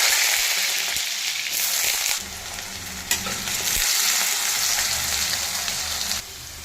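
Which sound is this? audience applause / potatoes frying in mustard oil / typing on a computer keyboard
potatoes frying in mustard oil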